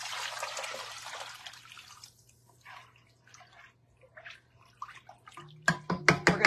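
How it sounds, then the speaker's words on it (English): Water is poured into a pot of Mexican corn and potato soup, a hissing splash that fades into scattered drips, followed by several sharp clinks and knocks near the end. "Now you're going to add the rest of your water."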